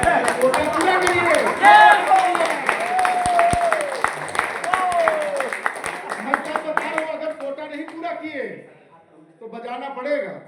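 An audience at a leaders' summit in Manali claps in a steady, dense patter for several seconds while someone speaks loudly over it; the clapping fades out near the end.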